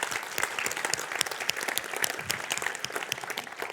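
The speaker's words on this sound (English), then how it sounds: "One big applause for Mateusz" Dense, continuous audience applause fills a conference hall at a C++ programming talk, welcoming a speaker to the stage; the sustained, even clapping carries on without pause and no talk is heard.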